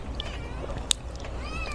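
A cat indoors in a home kitchen gives a few short, faint meows against a low background hum, with one brief sharp click midway and no clear talk over it.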